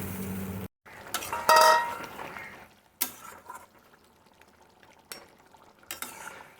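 Spices and fried fish with pointed gourd are stirred in a pan, with metallic scrapes and clanks of a spoon, a short burst of sizzling and scattered knocks between quieter pauses.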